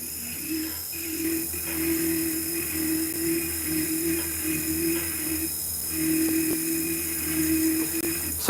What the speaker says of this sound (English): I'm going back to the other burr.